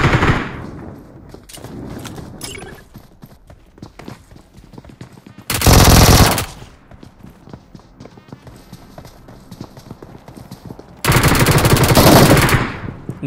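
Gunfire in a BGMI battle royale video game clutch fight: rapid bursts of automatic fire, with two long, loud sustained volleys and scattered shorter shots and footsteps between, under a voice talking.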